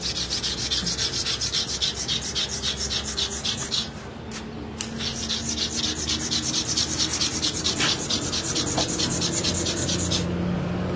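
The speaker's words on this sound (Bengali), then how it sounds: "এই টুকরাটা ওয়ালের সাথে ঘষতে হবে" A piece of brick rubbed hard against a wall, a loud, continuous gritty scraping in rapid back-and-forth strokes with a brief pause midway, close up and without talk.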